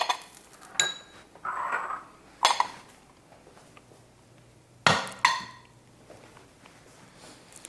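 Pots, pans and dishes clink and clatter in a home kitchen during cooking, a few separate sharp knocks and rattles spaced out over several seconds, fairly close, with no talking.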